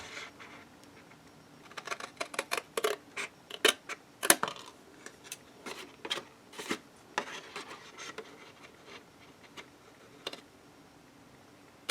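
Scissors snip through paper for a matchbook mini album, a series of sharp, close cuts in irregular bursts with soft rustling between them in a quiet room.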